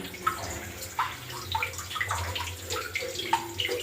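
Water gushes from a freshly drilled hole in fine black sand, a close, steady splashing and gurgling rush with irregular spurts throughout.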